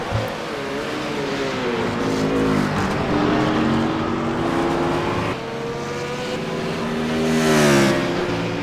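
Race cars at the Road America 12-hour endurance race, engines droning and shifting pitch as they pass, loud and continuous with a rising surge near the end.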